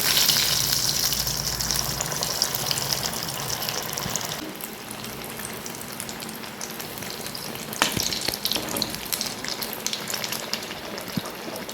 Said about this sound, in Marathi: आणि हे रोल आपल्याला तळून घ्यायचं आहे. आपलं तेल गरम झालेलं आहे त्याच्यात सोडून घेऊया.